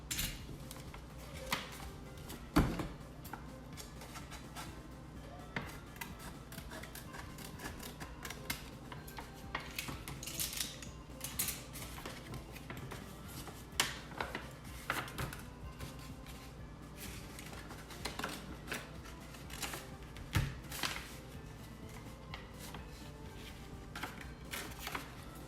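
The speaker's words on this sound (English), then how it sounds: "I will take a cutter and I'm going to cut those fold lines from the other side." A cutter scoring fold lines on paper for a Christmas lantern, heard as scattered light scratches and taps at irregular intervals, fairly faint and close, with occasional sharper knocks.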